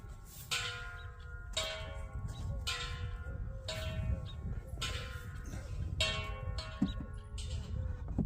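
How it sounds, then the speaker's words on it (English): A large wind chime at a homestead rings like a church bell, with about seven deep, resonant strikes at uneven intervals, each tone ringing and decaying over a steady background of wind noise, no talking. "Can you hear our big wind chime?"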